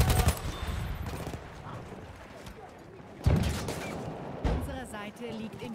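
Bursts of gunfire in Battlefield 1 multiplayer, loud rattling volleys with a heavy blast partway through, mixed with other battlefield shots, while someone talks over the action.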